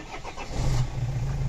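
Renault Trafic 2.5 van engine cranking over and catching, rising into a steady low idle after about half a second, close and fairly loud, heard alone.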